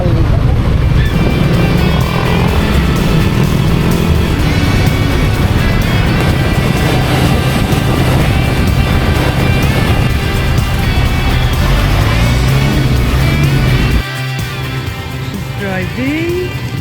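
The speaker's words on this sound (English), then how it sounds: "we will drive now I think a half an hour until we will arrive there and meet Amelie" A car drives on an open road with a loud, continuous engine and wind drone. Voices sit faintly under the noise, and the level drops suddenly near the end.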